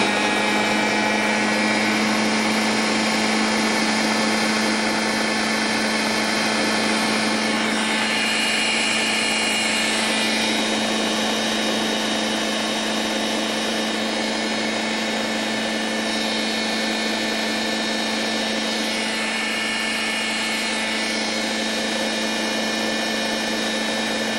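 A blender runs continuously, mixing vegan banana pudding with honey and vanilla, its steady loud motor whine and churning holding an even drone throughout with no break.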